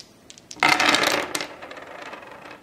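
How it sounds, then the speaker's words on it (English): Six dice clatter and rattle across a table in a Target Earth board game ground battle, a burst of bright tumbling clicks that settles into scattered smaller taps, with no voices over it. "it is allowed to roll 6 dice"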